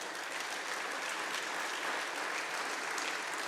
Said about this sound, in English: I think we can clap for that part.